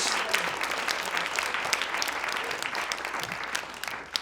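Steady applause from a storytelling-slam audience after a storyteller's tale, dense clapping at a constant level across the whole stretch with no break.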